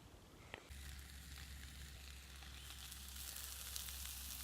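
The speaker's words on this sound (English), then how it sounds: "Can't beat a fry up in the morning" A breakfast fry-up on a camp stove in a winter wild camp, with a steady, quiet sizzle over a low burner hum after a brief knock.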